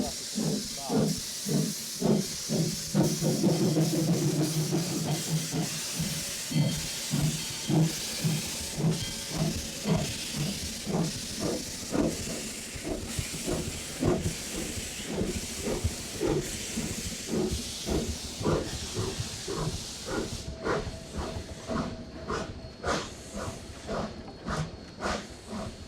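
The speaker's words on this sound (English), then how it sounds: "Right now they got the drain box open on the bottom, so a lot of steam coming out of the cylinders." Steam hisses strongly from the open cylinder drain cocks of the No. 40 steam locomotive on the Georgetown Loop Railroad, pulsing in a steady rhythmic chuff as the engine rolls along, loud and close, with a voice briefly heard.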